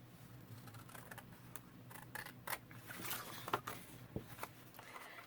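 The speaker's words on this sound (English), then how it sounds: "So we're cutting that one out." Scissors snip through paper while small journal covers and pocket tucks are made, a quiet irregular series of crisp close cuts and light rustling, with no talking.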